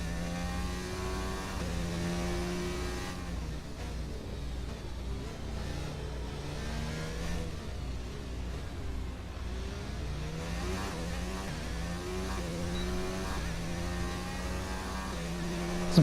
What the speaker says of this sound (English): I've never heard my car like this in these games.